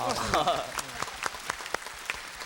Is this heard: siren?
no